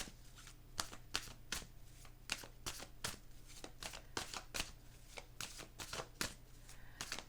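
Oracle des Miroirs cards being shuffled by hand: a steady run of crisp riffles and soft slaps repeating every half second or so, close and clear, with no voices.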